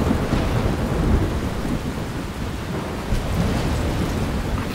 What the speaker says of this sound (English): And those are huge raindrops.